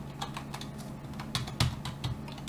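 Fingers tap a computer keyboard in short, irregular bursts of soft clicks, with a couple of sharper keystrokes near the end over a faint low electrical hum; no one speaks.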